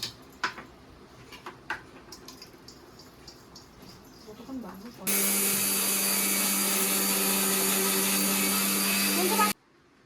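White mustard seeds, two green chillies and four or five garlic cloves are ground into a paste in a kitchen, a loud, steady motorised whir running for about four seconds, preceded by quieter clinks and handling noises.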